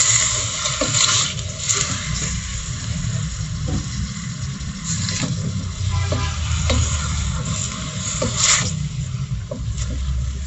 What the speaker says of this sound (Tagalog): sangag-sangag lang naman natin siya hanggang sa mag-brown yung ating pork bago natin siya tubigan